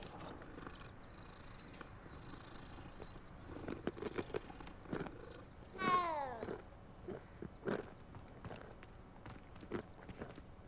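A cat meows once in the video game Hogwarts Legacy, a short, clear, nearby call in the middle, among soft footsteps and quiet ambient sounds.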